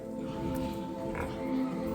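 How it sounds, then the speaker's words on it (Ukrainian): A pig in its pen grunts in low, soft snorts, close by amid a steady low hum of the shed. "чую, тут нам одна свинка там гуляє"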